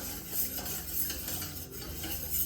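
A spoon stirring a condensed milk mixture in a pan before the gas is lit, a soft, continuous scraping and swishing at low volume with faint clinks of utensil on metal, and no voices.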